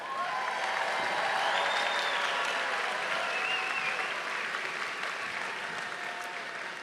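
A large crowd claps steadily and loudly at a high school commencement ceremony, the dense applause holding at an even level throughout and tapering only slightly near the end.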